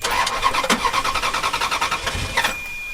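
A Ferrari engine cranks rapidly in a fast rhythmic churning, starter whirring for a couple of seconds without catching, then cutting off; the car has a failed part.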